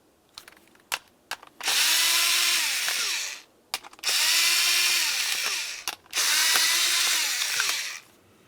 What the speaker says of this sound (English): we'll be using a 7mm to remove all 5 of the mounting bolts.